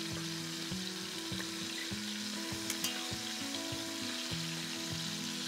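Turkey necks browning in a pot give a loud, continuous frying sizzle, with a low rhythmic bubbling pulse running steadily underneath, close up and with no talking.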